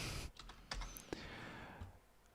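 Short bursts of quick keystrokes clatter on a computer keyboard, a handful of close, crisp taps with brief gaps between them, heard alone.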